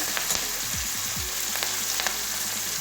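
Onion and spices with salt fry in oil in a pan, a steady bright sizzle up close, with a few soft stirring knocks and scrapes scattered through.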